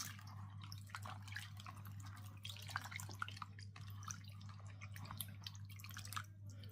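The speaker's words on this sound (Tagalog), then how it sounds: "Actually, sabi ni Habi, ibabad ko daw muna to sa tubig na may asin." Water drips and trickles near a kitchen sink as bitter gourd is set to soak in salted water. The splashes are faint and intermittent, with a steady low electrical hum underneath and no voices.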